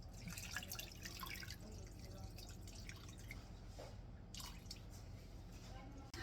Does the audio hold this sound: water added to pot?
yes